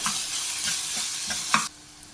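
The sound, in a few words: stirring spices with Kashmiri chili powder in hot oil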